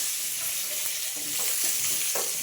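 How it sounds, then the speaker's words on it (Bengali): Luchi deep-frying in oil on a veranda while food is cooked for a Bengali pre-wedding meal, giving a steady soft sizzle with faint clinks and light handling noises over a continuous bubbling hiss. "আর এই যে রিনা হচ্ছে লুচি ভাজছে"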